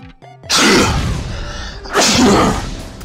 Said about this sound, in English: I didn't destroy anything in game from my sneezing